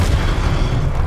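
A heavy, booming blast from a Confringo fire spell in the game Hogwarts Legacy, a thick rumbling burst that fills the whole moment without any voice over it.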